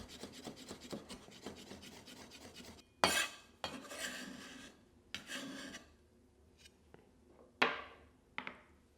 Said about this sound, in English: Finely chop your garlic.